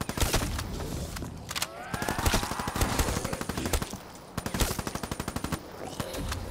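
Automatic gunfire from a weapon in Call of Duty zombies mode, rapid bursts of loud, close shots repeating in quick rhythmic strings throughout, with brief pauses between volleys and game effects in the background.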